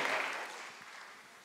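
A school gala concert audience applauds, a brief clatter of clapping that fades out quickly and sounds somewhat distant.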